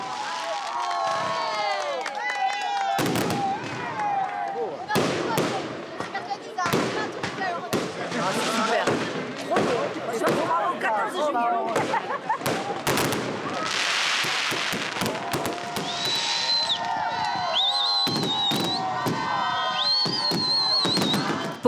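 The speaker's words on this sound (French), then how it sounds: "Un feu d'artifice tiré juste au-dessus du Luna Park" Fireworks burst over the Luna Park fairground in a rapid series of sharp cracks and bangs, with whistles and crackling spread through, while a crowd cheers and chatters close by.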